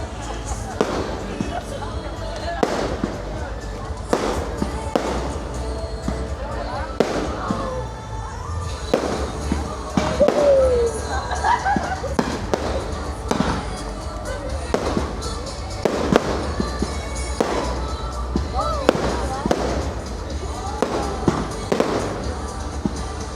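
A big fireworks display bursting over a crowd at a town celebration in Calasiao, Pangasinan, with repeated sharp booms and crackles throughout, loud and steady, while people cheer and talk.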